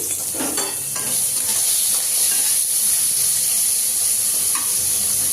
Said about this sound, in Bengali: দেখি একটু ভাজছি এখন। চলো ভাজাটা দেখাই। এই যে ভাজছি